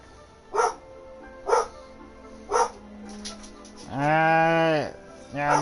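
Dogs in the video game Genshin Impact bark in three evenly spaced short yelps, followed by a longer drawn-out bleating call, heard close and distinct against a quiet game background.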